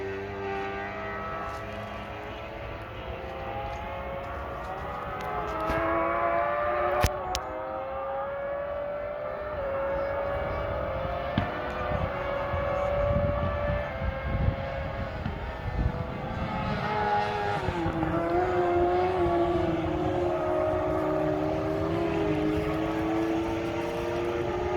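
F1 and F2 racing sidecar engines at Donington scream in a layered, overlapping chorus, rising and falling in pitch as the outfits pass and accelerate, loud and continuous for the whole stretch with no talk.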